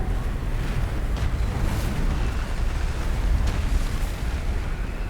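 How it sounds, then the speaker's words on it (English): Meteor shower explosions in the video game Subnautica Below Zero, a continuous heavy rumbling roar with dense booming impacts and a few sharper bursts, loud and unbroken across the whole stretch with no talk. "there's one hell of a meteor shower"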